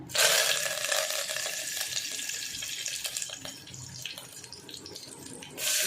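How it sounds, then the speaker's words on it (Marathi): Curry leaves dropped into hot oil for a Maharashtrian mutton rassa, a loud hissing sizzle at the start that settles into steadier frying crackle, with a brief flare near the end. "तेल गरम झाले कढीपत्ता टाकते"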